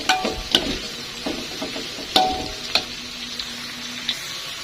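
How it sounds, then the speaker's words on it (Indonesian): Shrimp paste (terasi) and shallots fry in a pan with a steady sizzle, broken by sharp clinks and scrapes of stirring at irregular moments. "Untuk memasak goreng terasi ini tidak membutuhkan waktu yang lama ya teman-teman"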